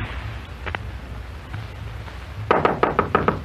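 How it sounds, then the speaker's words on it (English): A knock on a door as an audiobook sound effect: a few faint taps early, then a firm run of about five or six raps near the end, close and clear over a low background hum. "Then came a knock."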